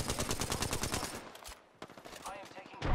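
Rapid automatic gunfire from a multiplayer shooter match, dense bursts of shots crowding the start, a brief lull, then more volleys near and loud, with a voice talking over part of it.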